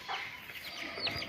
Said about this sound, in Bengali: এই মুরগিটা 8টা বাচ্চা ফুটাইছিল, 4টা চিলে নিয়ে গেছে গা, আর এখন আছে 4টা।